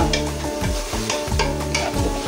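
Spices and cinnamon being stirred in a hot frying pan for opor ayam, loud and close, with rhythmic scraping strokes of the spatula over a continuous sizzle.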